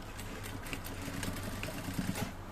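A sewing machine runs steadily and quietly, joining three kimono jacket pieces in a continuous, faint hum with no talk.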